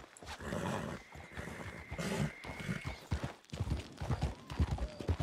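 Rhythmic clip-clop of horse hooves trots along over a busy, noisy soundscape in Red Dead Redemption 2 on PC, the steps irregular and moderately loud.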